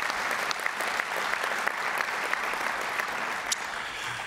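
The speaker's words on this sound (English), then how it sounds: "all of you deserve a big round of applause for the work that you do across this country." Steady applause from an audience of mayors, council members and officials at a gathering, dense continuous clapping at moderate distance with no gaps for the full few seconds.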